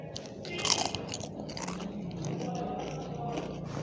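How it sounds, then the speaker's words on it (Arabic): Crunchy homemade potato chips are bitten and chewed up close, giving sharp crackling crunches followed by steady munching. "بصوا كمان يعني مقرمش ازاي، مقرمشة حلوة جدا."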